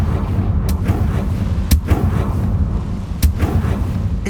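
A Confringo blasting curse fires in Hogwarts Legacy, three sharp booming bursts spaced over a dense, steady low rumble of game ambience and music.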